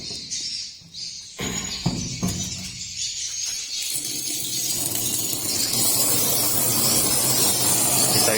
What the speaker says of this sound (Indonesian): Setelah itu kemudian semprotnya kita isi dengan air ya, seperti ini.